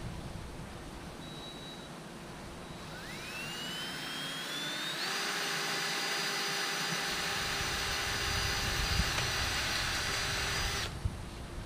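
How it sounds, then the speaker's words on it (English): A power drill spins up from the bottom through a hole in an M105 footrest on a Millennium M100U, its whine climbing, then holding a steady, loud, high pitch for several seconds before stopping abruptly. "I'll drill from the bottom in through this hole."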